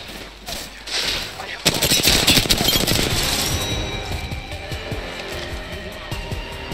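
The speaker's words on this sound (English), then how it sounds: "They're shooting at me!" Rapid bursts of gunfire in the battle royale game Apex Legends, a sharp volley breaking in loud and close, then a dense stream of shots and impacts trailing off over game ambience.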